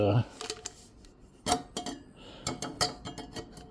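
Metal pot holders being fitted onto a HOTDEVIL camp stove, with irregular clinks, scrapes and rattles of metal parts, close and moderately quiet, with no talking.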